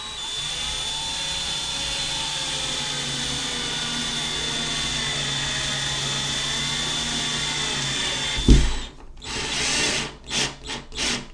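A power drill driving a drywall screw into a wall with a stud behind it whines steadily and loud for about eight seconds, then stops with a thump, followed by several short bursts of drilling.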